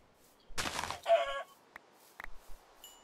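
A chicken in a Minecraft-style survival video game gives a few squawking, crowing clucks followed by a handful of short in-game clicks and thuds, with no talking.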